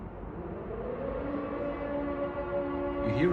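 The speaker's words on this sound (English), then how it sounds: "So you hear the siren?" An air raid siren wails over Kyiv during an attack, a steady sustained tone heard from a distance that rises slightly in loudness, with no talk over it.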